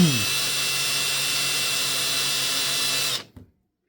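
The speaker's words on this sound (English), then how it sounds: "Now I'm going to use a countersink, and I don't want to go too deep with this." A power drill with a countersink bit bores screw holes for a model railway layout. A steady high whine runs for about three seconds after a quick spin-up, then cuts off abruptly as the bit stops.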